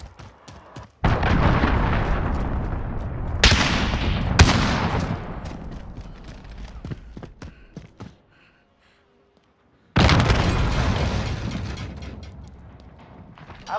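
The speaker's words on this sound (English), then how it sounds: "Cruise missile incoming!" Cruise missile strike explosions in Call of Duty: Modern Warfare, heavy booming blasts rolling together with sharp cracks, a brief silent gap, then another loud burst of detonations.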